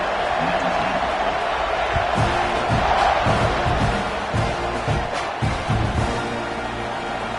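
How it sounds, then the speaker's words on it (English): A football stadium crowd roars steadily just before a kickoff to protect a slim two-point lead, with loud sustained cheering and sharp bursts of shouting and thumps rising through the din. "They're set to kick it off, and this crowd now ready to get behind them."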